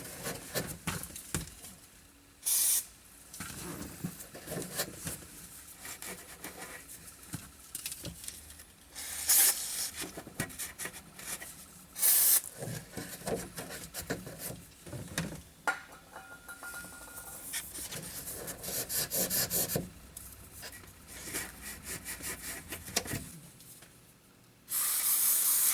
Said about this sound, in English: I'm gonna spray some brake clean on a shop towel, clean the tubes off real good so the glue will stick.